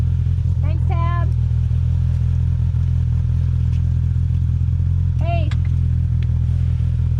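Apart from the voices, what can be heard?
Polaris RZR Pro R and Turbo R UTVs driving on trails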